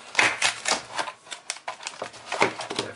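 Plastic and cardboard packaging of an iSkin Aura iPhone 5 case is torn open along the sides, a quick run of crisp ripping and snapping crackles close to the microphone, with no talk.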